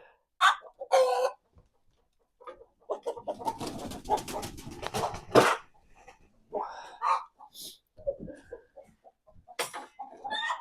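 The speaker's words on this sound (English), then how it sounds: "It's a pretty Brahma rooster that we're gonna use for breeding" A Brahma rooster clucks and squawks in bursts close by, with scuffling and flapping between the calls.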